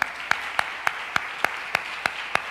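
Church congregation applauding, a steady wash of crowd clapping with one nearby pair of hands striking sharp, regular beats about three times a second.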